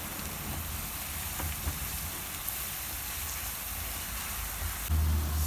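Onions fry in oil in a pot on the stove, giving a dense, constant crackling sizzle throughout, close and moderately loud, with a low rumbling hum from the burner underneath.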